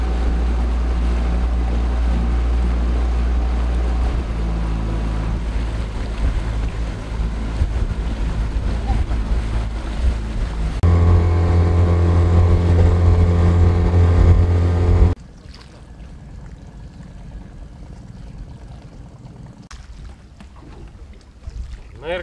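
A Promarine GY430W boat running on an outboard motor produces a steady, loud engine drone over water that swells louder partway through, then abruptly falls away to quieter wind and water noise.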